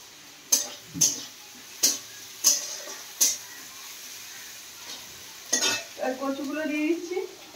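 Spices including salt, turmeric and chilli powder being stirred into frying food in a home kitchen: a series of sharp utensil clacks against the pan, then a steady sizzle rising at the end.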